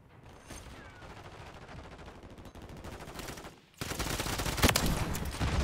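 XRK Stalker rifle gunfire in Modern Warfare 3 online play, a rapid string of shots under steady game noise, then a louder, denser burst of firing with impacts near the end.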